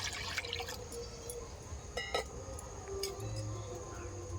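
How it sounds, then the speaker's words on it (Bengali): Water is poured into a wok set on a lit stove, as a banana-stem vegetarian dish is started; a steady watery rush continues, with a few small clinks and drips over it. "একটা কড়া বসিয়ে তার মধ্যে বেশ কিছুটা জল দিয়ে দেবো"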